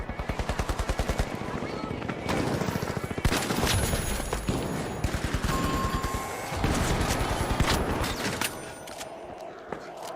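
Rapid turret gunfire rattles in The Finals, a game set in a vault heist arena, with bursts of sharp automatic shots in quick rhythm, some pauses and heavier blasts, and a voice speaking in between.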